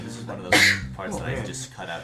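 A single sharp sneeze bursts out near the mic during a casual tabletop D&D podcast session, surrounded by ongoing conversational talk.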